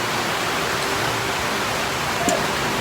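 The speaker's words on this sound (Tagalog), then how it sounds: "Ang ingay kasi umuulan dito eh." Heavy rain pouring down at a home cooking spot, a dense, loud, even hiss of water filling everything with no break or speech.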